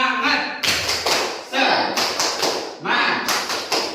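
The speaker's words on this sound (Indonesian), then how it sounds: "ingin kalian tepuk semangat." Students in an Indonesian classroom perform a rhythmic spirit clap, the tepuk semangat, with loud group claps in a quick repeating pattern alongside voices chanting together.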